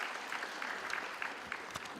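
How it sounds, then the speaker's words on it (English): A university graduation crowd at a Walter Sisulu University convocation applauds in a soft, distant, continuous patter of many hands, steady throughout with a few sharper individual claps poking through. "can you give a round of applause for that group?"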